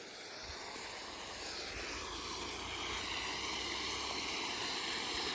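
Water leaking and flowing at a farm plot, a steady rushing stream that swells slightly louder over the seconds, with no talk.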